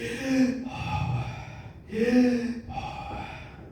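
A voice imitates human breathing with two long, audible in-and-out breaths, close and fairly loud, each rising and then trailing off.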